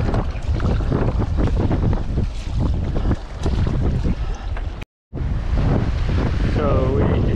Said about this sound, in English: come back a bit against the strong wind